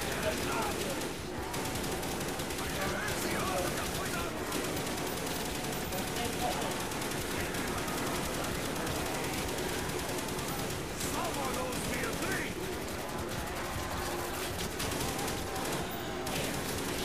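Dense, continuous gunfire and machine-gun bursts fill a zombies mode of a Black Ops video game, loud and sustained with layered game sound throughout and a voice talking in places.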